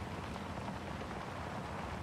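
Steady rain hisses evenly throughout in Farming Simulator 22, a dense continuous wash of drops with no voices or other distinct sounds.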